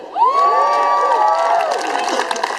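A crowd at a steam locomotive move event outside a science and technology museum breaks into loud, sustained cheering and high whoops, with children's voices, lasting about two seconds close to the microphone.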